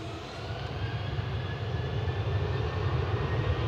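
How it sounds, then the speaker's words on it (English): A Ryanair passenger jet departing Manchester Airport for Brussels, heard as a steady, broad engine roar that holds fairly loud and builds slightly over the few seconds, with no talk. "Ryanair departing in front of us to Brussels with flight 3222."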